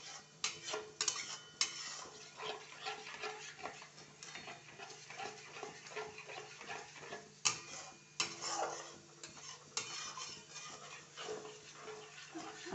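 Egg being stirred as it fries in a wok, with a soft background sizzle and a string of quiet scraping and tapping strokes from the spatula in an uneven rhythm.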